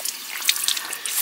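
Hot water runs from a tap into the sink of a converted Sprinter camper van, a steady, close splashing stream that lasts the whole brief moment.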